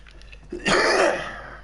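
A single harsh, noisy burst of coughing close to the mic, lasting about a second, with no talking.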